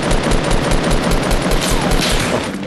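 Sustained gunfire in a Fortnite Battle Royale match, a loud, dense volley of rapid shots pounding continuously throughout with no pauses.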